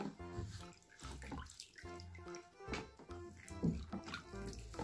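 Water sloshes and splashes in a small tub while a toy baby doll is bathed, soft irregular splashing heard close and fairly quiet.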